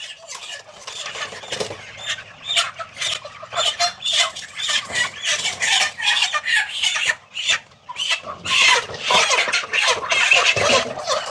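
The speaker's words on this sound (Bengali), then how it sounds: "ভাই, বড় মুরগিগুলো ধরে এগুলো ছেড়ে দিন, ছোট মুরগি যেন না যায়" Broiler chickens on a bird-flu-affected farm squawk and cluck loudly as they are caught for sale, frantic bursts of alarmed calls overlapping in a busy, irregular rhythm with no voices.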